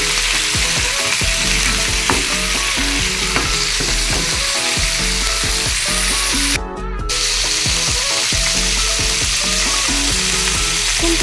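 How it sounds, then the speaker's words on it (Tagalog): Onion and ginger sautéing in a pan for chicken tinola, a loud continuous sizzle with steady scraping stir strokes throughout and a brief dip midway, no voices. "Gisa-gisa muna natin dito."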